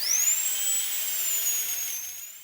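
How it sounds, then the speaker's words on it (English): A dentist's drill whirs with a thin, high-pitched whine that rises quickly at the start and then holds steady, slowly wavering and fading a little toward the end, close and clear with no talk. "The pain, the scraping, the drill."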